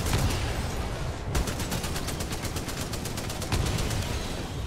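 Rapid automatic gunfire in the video game Titanfall 2, a loud continuous stream of shots with a brief break after the first second, then steady bursts resuming with no talk.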